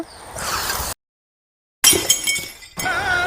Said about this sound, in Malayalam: നീ കുപ്പിയൊന്നും പൊട്ടിച്ചു തരൂ